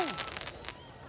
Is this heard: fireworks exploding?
yes